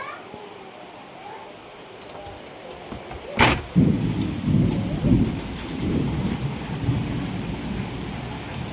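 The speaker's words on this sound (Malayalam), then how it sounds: "മഴ പെയ്യുന്നു" Steady rain falls throughout, with a sudden loud crack partway through, after which the downpour grows heavier and fuller.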